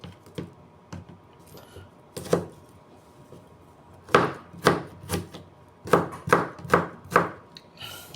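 A knife chops onion, ginger and garlic on a board: sparse sharp cuts at first, then a quick run of evenly spaced, crisp chops close by. No one speaks.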